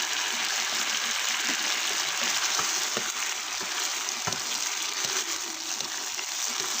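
Sunflower sprouts stir-fried in a wok with oyster sauce and chilli, a dense steady sizzle close up with brief spatula knocks and tossing sounds, no voices.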